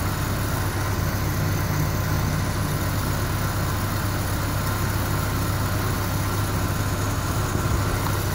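A car engine fitted with a Weber 32/36 carburetor runs at a steady fast idle while warming up, a constant loud rumble with no pauses or revving.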